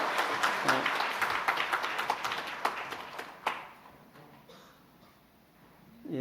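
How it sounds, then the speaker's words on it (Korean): A burst of crowd applause from a church congregation during a worship service, many hands clapping fairly close, fading out after a few seconds into near quiet. "힘찬 박수 부탁드립니다."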